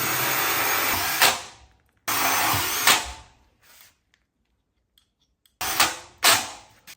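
Power screwdriver driving Torx 25 screws to fix a gate receiver on a MODE Cheadle gate: three loud, close whirring bursts about a second each, separated by pauses.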